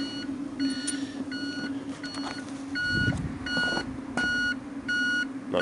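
A replaced backup beeper on a Weasel utility vehicle sounds a series of evenly spaced electronic beeps, about seven pulses, fairly faint over a background engine hum and some clatter.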